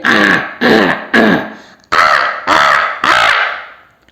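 A human voice imitates a crow, giving six loud, harsh throaty caws from the back of the throat in an uneven rhythm, each a raspy burst with short gaps between, heard close and alone.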